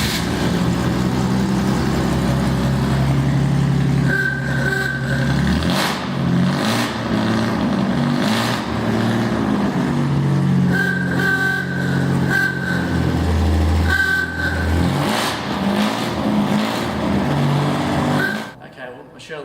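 A powerful vintage racing car under restoration roars with its engine revving hard, loud and close, holding a continuous heavy drone with surges in pitch before cutting off abruptly near the end.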